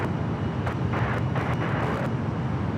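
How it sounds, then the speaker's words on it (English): A United Boeing 787 Dreamliner at Los Angeles airport gives a steady, broad jet roar of moderate loudness, continuous with no breaks and no voices. "Got that United Dreamliner up next."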